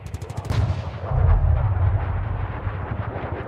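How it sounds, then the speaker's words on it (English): Barrage of gunfire and artillery, rapid cracking shots followed by heavy booming salvos that rumble and roll on, loud and dense with no voices. "They unleash a devastating barrage of gunfire and explode with blistering salvos of shrapnel and steel"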